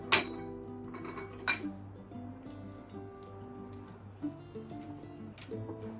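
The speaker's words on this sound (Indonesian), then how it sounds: "Kita aduk telurnya sampai tercampur rata." A utensil stirs eggs into Black Forest cake batter in a bowl, giving repeated clinks and scrapes against the bowl with soft wet squishing between them, close and moderately loud.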